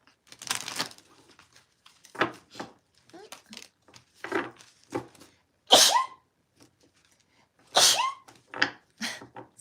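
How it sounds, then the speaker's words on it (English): A person sneezes, a loud sudden burst, among stretches of a person talking, with a second sneeze-like burst later on. "I thought I could make it without having to sneeze"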